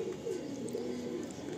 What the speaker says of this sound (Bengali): অনেকেই তো দেখেছেন লাল শিরা পায়রা, তাও খুব রিয়ার।